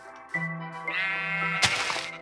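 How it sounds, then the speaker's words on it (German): Minecraft sheep bleating in-game: one drawn-out, wavering bleat with a steady low tone, followed by a brighter, noisier burst near the end, close and clear with no talking. "aber ich höre hier schon Schafe."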